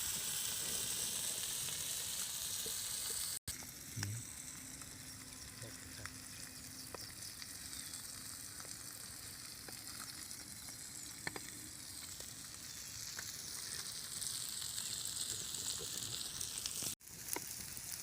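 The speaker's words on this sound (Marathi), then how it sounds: "हे आंबळे मासे तळण्यासाठी त्याला बरंच तेल लागतं तर त्यामध्ये परत तेल टाकलेलं आहे" Amli fish frying in plenty of oil on a flat iron tava gives a steady, dense sizzle that runs throughout, with a couple of brief sharp knocks and no one speaking.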